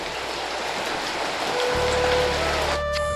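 Steady rain falls outside, a dense continuous patter that stays loud throughout, joined near the end by a low engine-like drone and a rising tone.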